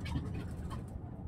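Soft, low cooing of pigeons or doves, a steady murmur of calls close by with no one speaking.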